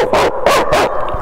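A person imitates a dog barking with three quick, loud vocal "woof" sounds in an even rhythm, close to the microphone, with no other talk.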